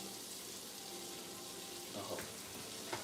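Onions sizzling in a tablespoon of butter in a pan, a steady soft broadband hiss of frying that runs throughout, with a few brief clinks and bumps near the end.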